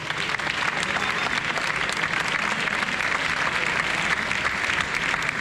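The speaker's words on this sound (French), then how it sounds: "merci de vous applaudir, s'il vous plaît" A group of trail runners gathered before a 60 km night race applaud themselves in dense, steady clapping at close range, sustained without pause.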